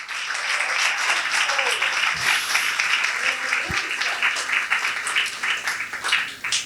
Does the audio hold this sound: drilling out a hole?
no